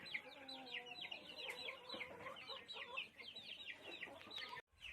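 Chickens and chicks in a dry pen clucking and peeping continuously, many overlapping chirps close by, with a brief cut near the end.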